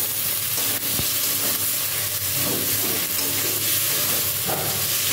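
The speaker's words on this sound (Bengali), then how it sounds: "এবার এর মধ্যে ভেজে রাখা পটলগুলোকে অ্যাড করে দিয়ে দিচ্ছি, দিয়ে ওটার সাথে একটু ভালো করে কষিয়ে নেব" Fried pointed gourd pieces are tossed and sautéed in a spice paste in oil. A loud, dense sizzle runs continuously, broken by a few utensil scrapes and knocks, with no talking.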